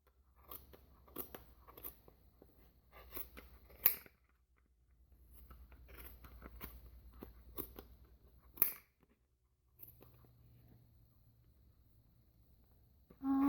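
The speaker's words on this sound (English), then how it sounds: "now I'm going to snip with the scissors I've chosen to be the snipping scissors" Sharp snips and crunchy cuts as scissors chosen for snipping slice through folded yarn on a large Clover pom pom maker, several close cuts in bursts with pauses between.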